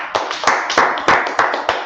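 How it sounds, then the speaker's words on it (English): A small group clapping in rhythm at a religious gathering, about six or seven sharp, close claps in a steady beat over two seconds. "Let's clap it up for the Lord."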